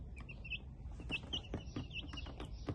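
Black and Buff Minorca chickens make repeated short, high chirps and soft clucks close by, in quick irregular bursts over a low background murmur.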